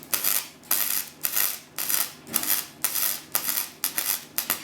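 A welder tacks a car body panel on a Falcon project car in a steady run of about ten short, crackling bursts, each cut off by a brief pause. The sound is close and loud with no voices.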